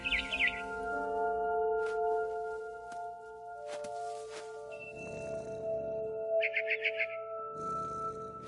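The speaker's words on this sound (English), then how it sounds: "Then I heard chirping outside my window. It was a barn swallow going back to her nest." Bright, repeated barn swallow chirps in short bursts over a steady synthetic musical backdrop in a video game, clear and fairly close.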